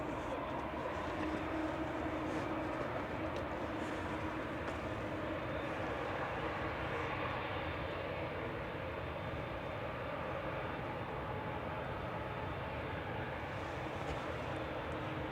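Ryanair Boeing 737 Max 8200 rolling out on runway 23 right at Manchester Airport after landing, a steady, fairly faint broadband engine rumble and rush that holds level throughout, with no clear talk over it.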